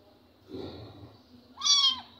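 Sick kitten giving a single faint, high-pitched meow near the end, after soft rustling in a quiet indoor room.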